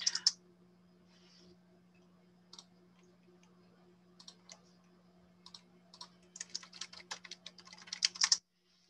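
Keys on a computer keyboard clack in scattered taps that build into a quicker burst of typing while signing in, close and quiet over a steady low electrical hum.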